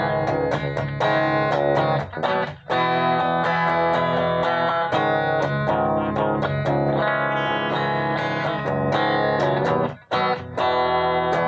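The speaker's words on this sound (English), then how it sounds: "Here's with some reverb from a reverb pedal I got going here." A loud, distorted electric guitar through a Kustom combo amp and reverb pedal rings out with heavy reverb, sustained chords washing into a spacious tail, briefly breaking off twice before continuing.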